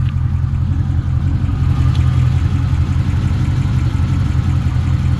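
A 1968 Chevy Camaro SS engine idles steadily with a low rumble, and a faint, light ticking can be picked out within the drone.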